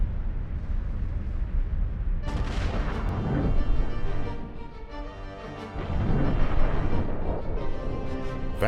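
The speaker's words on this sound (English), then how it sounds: "The sun erupted in a series of massive explosions called coronal mass ejections" Deep rumbling booms and crackling blasts portraying solar eruptions and coronal mass ejections, a loud sustained roar with repeated heavy explosive surges and a tonal sweep layered over it.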